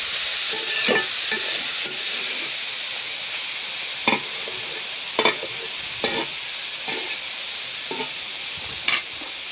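Leafy greens toss and scrape in a hot pan, a constant sizzle broken by periodic louder stirring clatters, close and alone with no talk.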